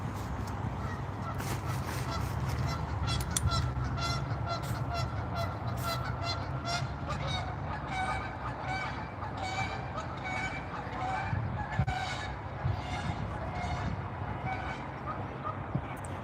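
Geese honk continuously in a noisy outdoor flock in Canada, repeated harsh calls overlapping one another over a rumbling background, with people talking at times.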